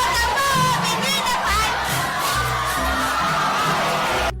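A company of youths at a national service training camp cheer and shout a group chant together, loud and dense crowd voices with rhythmic low thumps running steadily throughout.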